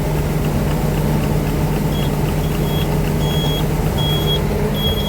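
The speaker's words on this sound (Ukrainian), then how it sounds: "Зараз буде пікати сигналізація" The alarm of a John Deere 952 combine harvesting winter wheat beeps in short, evenly spaced high tones over the steady, loud drone of the running engine.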